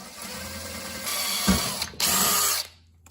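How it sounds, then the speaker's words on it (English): A power drill whirs in two bursts, biting into the metal footwell of an MG TD with a high grinding whine, then cuts off, leaving a brief quiet tail. "drill a hole in the metal footwell"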